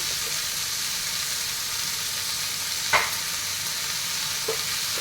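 Bitter gourd fry with salt and turmeric sizzling in a pan, a continuous close hiss with a couple of soft spoon scrapes as it is stirred, no one speaking.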